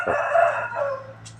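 A rooster crows once, close and clear, among chickens kept at Wat Pong Chai temple in Chae Hom, Lampang, the call drawn out and fading after about a second.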